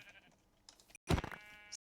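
A sheep bleats in the video game Minecraft, one short nasal bleat after a quiet stretch, close and clear.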